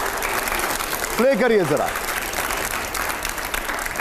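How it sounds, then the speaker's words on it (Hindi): An applause sound effect plays on a Hindi TV news debate show, a short burst of dense clapping running beneath a voice as he speaks. "अगला सवाल से पहले जोरदार तालियां हो, प्ले करिए"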